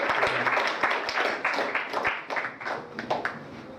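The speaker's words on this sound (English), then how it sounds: "We clap our hands and welcome Brother David" A church congregation claps to welcome Brother David forward to give his testimony; dense, close clapping with distinct sharp hand strikes continues throughout, fluctuating in intensity and loosening slightly toward the end.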